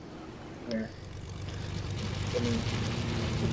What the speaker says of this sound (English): there goes my plane